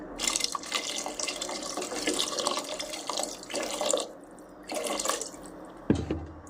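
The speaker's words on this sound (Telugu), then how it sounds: "కొంచెం ఎక్కువ నీళ్ళు పోస్తాం." Water splashes and gurgles in several bursts as it is poured into a pot for mushroom biryani nearby, with short pauses between pours and a clunk near the end.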